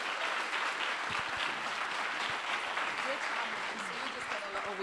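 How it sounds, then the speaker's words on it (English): Applause from a conference audience at the closing of a women's conference, honoring the two co-chairs; a thick, continuous wash of clapping with a few murmured voices underneath, fairly far off. "And a round of applause for our two power women."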